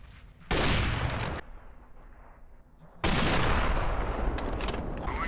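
Two bursts of loud gunfire in the game CS GO, close and harsh, split by a short quieter gap with faint game sounds.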